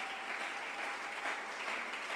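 Church congregation at a Sunday worship service applauding, a steady dense wash of many hands clapping at moderate distance, sustained throughout.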